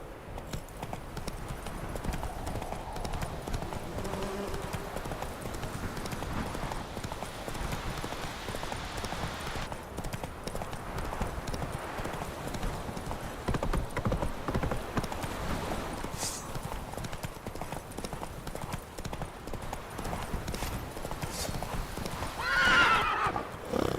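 A horse in The Witcher 3 gallops with a steady, continuous clip-clop of hooves throughout, ending in a sharp neigh near the close.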